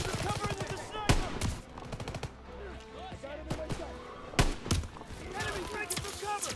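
Gunfire from a World War II battle in the Call of Duty WWII game, with sharp loud bursts near the start and again later amid a busy mix of battlefield noise and shouted voices.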